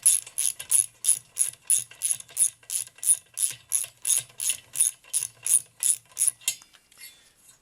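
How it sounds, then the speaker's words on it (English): A ratchet wrench clicks in a steady, even rhythm while backing a nut off a stud on a Villiers 9E engine, roughly twenty close, sharp bursts, then a faint fumble at the end. "This nut's going to come off or the stud's going to come out."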